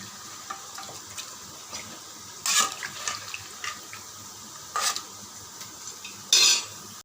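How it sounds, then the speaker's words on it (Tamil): Mutton biryani masala stirred in a pot, three short scraping, clinking strokes spaced a couple of seconds apart over a quiet kitchen background, close and soft, no speech. "பிரியாணி மசாலா நான் சேர்த்துக்கிறேன் சேர்த்து ஒரு கிளறு கிளறிக்கலாம்"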